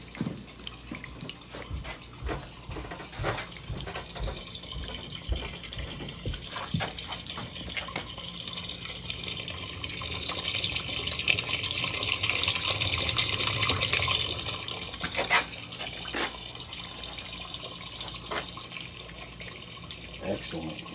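Sinks running during a home inspection, a steady rushing stream of tap water that swells louder midway and then eases back, with a faint voice in the background.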